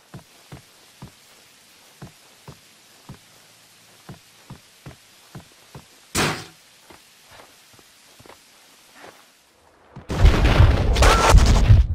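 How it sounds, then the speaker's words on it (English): An explosion bursts out in the video game Max Payne 2, a loud, dense roar near the end, following a regular run of soft footstep-like taps and a short earlier burst. "The sound of an explosion came from the direction of my apartment."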